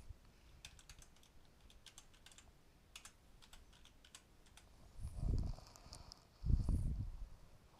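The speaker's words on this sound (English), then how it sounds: "I'm just going to start typing." Typing on a computer keyboard connected by OTG cable to a Samsung Galaxy S4, a run of light, quick key clicks in irregular bursts, followed by two louder low thumps near the end.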